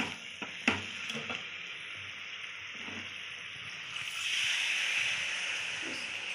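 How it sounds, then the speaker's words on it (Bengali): Water poured into a pan of fried food in hot oil: a quiet sizzle with a few clinks at first, then a sudden, louder hiss of steam that swells and holds before easing slightly. "এবারে আমি জল দিয়ে দেবো"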